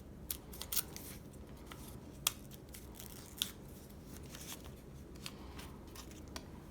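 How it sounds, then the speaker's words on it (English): Paper is trimmed with scissors for a rock art craft, giving a few sharp, quiet snips scattered over a faint, steady background. "I think I'm going to have to tear it down just a little bit. I made the paper just too big."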